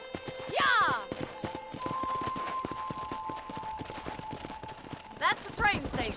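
Horse hooves clip-clop in the Red Dead Redemption video game, a steady, fairly faint rhythmic patter with horse whinnies and voices talking over it.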